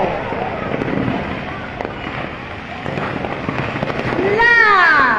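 Stock at a firecracker vendor's stall explodes in a nonstop rattle of close, loud crackling bangs that swells toward the end, with voices calling out over the bursts.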